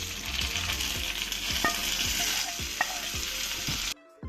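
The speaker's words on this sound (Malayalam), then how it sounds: "ഇനി നമുക്ക് ഇതിലേക്ക് വരുന്ന കറിവേപ്പിലൂടെ ചേർത്ത് കൊടുക്കാം" Curry leaves hit the hot oil of a tempering for pumpkin pachadi, giving a steady, dense sizzle with crackling pops close by, cutting off sharply near the end.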